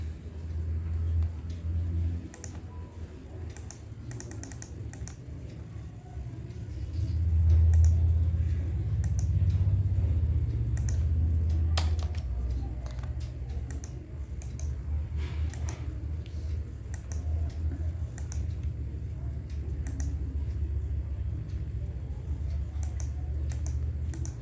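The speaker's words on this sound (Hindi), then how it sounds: "यहाँ पे हमें टाइप करना है इस चीज़ को" Someone types steadily on a computer keyboard while entering an address during a cybersecurity walkthrough. The clicks are soft and rapid and sit over a low background hum.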